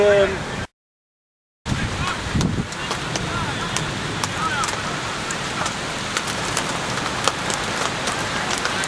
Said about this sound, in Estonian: See mingi ulme rahe või midagi.